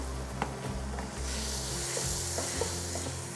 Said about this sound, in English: that's a sizzle I wanted to hear